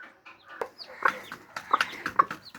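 A brooding hen clucks near her six newly hatched chicks, a run of short, close clucks in uneven bursts with brief pauses between them.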